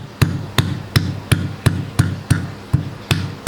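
A hard piece of kencur (aromatic ginger) is pounded to crush it in a kitchen, making about ten sharp, evenly spaced thuds, loud and close, with no one talking.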